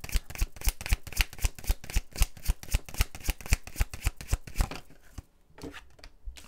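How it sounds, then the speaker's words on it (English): Rapid rhythmic riffling of tarot cards being shuffled, a quick regular series of crisp flaps that stops abruptly near the end, close up. "Last shuffle for Aries."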